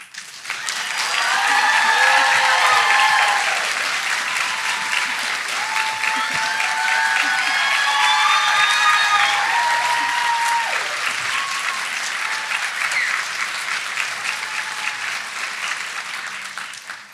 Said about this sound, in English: We can keep going with that applause for her.